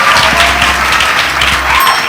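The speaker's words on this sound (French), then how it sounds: "Bonne réponse, on applaudit." A studio audience at a malaria quiz show breaks into loud, dense applause for a correct answer, steady clapping filling the whole moment with no talk over it.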